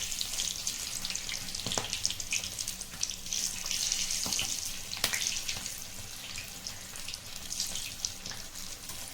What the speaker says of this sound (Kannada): ಮೀಡಿಯಮ್ ಫ್ಲೇಮಲ್ಲಿ ಇದನ್ನು ಚೆನ್ನಾಗಿ ಫ್ರೈ ಮಾಡ್ಕೋಬೇಕು ಮೆಣಸಿನ್ಕಾಯಿನ